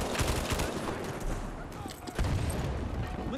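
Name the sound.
BAR M1918A2 gunfire in Battlefield 5 video game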